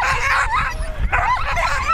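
Excited sled dogs yip, whine and bark close by at a race start on snow, several animals overlapping in high-pitched, eager bursts.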